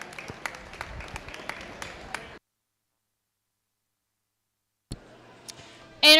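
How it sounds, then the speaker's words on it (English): An audience at a county goat show claps in a steady patter, then stops dead into silence before a few scattered sounds return. "Give them a round of applause"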